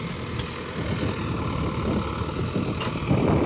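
A Mahindra tractor diesel engine idles nearby with a steady low rumble and a gentle knocking pulse, fairly loud and constant with no talking.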